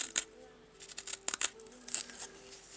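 A knife or blade cutting out a wooden feather carving blank gives short, quiet snipping and scraping strokes in irregular bursts, close and alone without talk.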